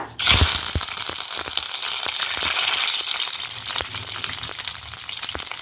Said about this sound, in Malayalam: കടുകൊക്കെ നന്നായിട്ട് പൊട്ടി വന്നിട്ടുണ്ട്